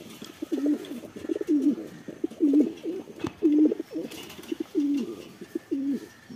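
Black Pomeranian pigeons coo repeatedly, close and clear, in regular soft bursts roughly once a second against a quiet background.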